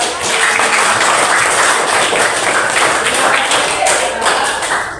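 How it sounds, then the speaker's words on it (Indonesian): Training participants break into dense, steady applause that keeps up at an even loudness throughout, many hands clapping close together with a few louder taps standing out. "Oke, beri tepuk tangan untuk kita semua"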